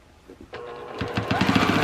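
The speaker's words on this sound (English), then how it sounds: "Back stitch a bit, and then just finish off my binding with no lumpy straight seams." A home sewing machine stitches binding onto a circle quilt, starting with a few hesitant stitches and then settling into a fast, even mechanical chatter, close and clear with no talking.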